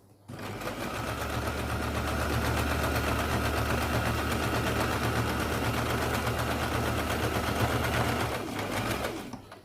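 A sewing machine runs steadily and close by, running a second line of double stitching over a seam on newborn baby pants, with a constant motor hum and fast needle chatter for nearly ten seconds and no talking.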